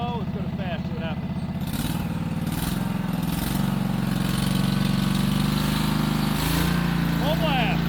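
A Wright Stander lawn mower engine runs steadily with its throttle at fast and the choke open, a continuous loud drone with faint speech mixed in.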